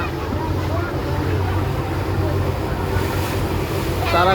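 Passenger launches racing on a river, a steady broad engine drone and rushing water noise that stays loud and constant throughout, with wind buffeting and no speech.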